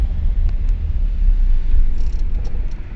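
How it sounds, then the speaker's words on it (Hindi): Carburetted engine of a 2004 Maruti 800 idling with the choke applied, a steady low rumbling throb close by with slight uneven pulsing, heard alone. "और आप इंजन नॉइस सुनना बस,"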